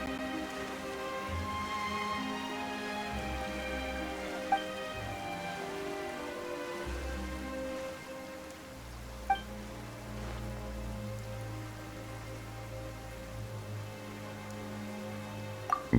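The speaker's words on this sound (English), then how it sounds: "Why is it raining all of a sudden?" Steady rain falling in the video game Genshin Impact, a continuous soft hiss of drops on surfaces with a low musical drone beneath and a few faint clicks, no voices.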